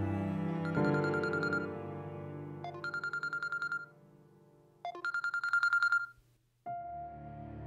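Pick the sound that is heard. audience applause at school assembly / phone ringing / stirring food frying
phone ringing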